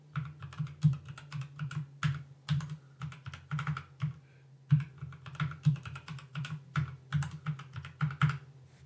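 Close keyboard typing in quick bursts of clacking keys, pausing briefly around the middle before resuming, with a faint low hum underneath.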